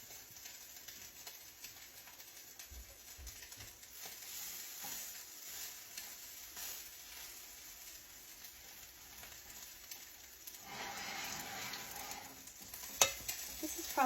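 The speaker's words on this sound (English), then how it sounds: "now I'm just gonna take my spoon and flatten it out into a patty" A spoon presses and flattens a gluten-free salmon patty in a frying pan, with soft scraping under a steady, faint sizzle of oil and a couple of sharper clinks near the end; nobody speaks.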